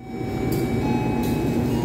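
Steady low rumble of the Sembrani passenger train idling at Semarang Tawang station, with a constant hum and two brief hiss bursts, no talking.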